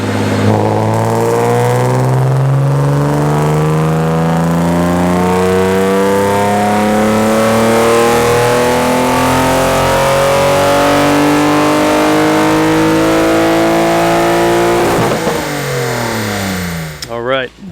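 A naturally aspirated BMW E36 M3 engine on a dyno revs up in one long loud pull, pitch climbing steadily for about fifteen seconds before cutting off abruptly, with a brief burst at the end.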